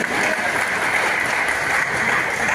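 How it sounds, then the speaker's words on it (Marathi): Loud, dense applause fills the hall for disabled trainees and staff at an event distributing artificial aids to people with disabilities, a sustained even roar of many clapping hands. "त्यांच्यासाठी जोरदार टाळ्या झाल्या पाहिजेत"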